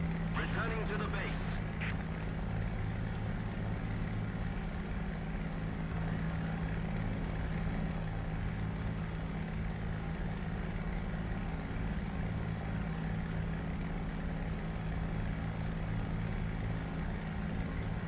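Westland Wyvern propeller engine droning in a flight simulator game, a steady low hum with a constant tone held for the whole stretch, moderately quiet and even, with occasional faint speech beneath.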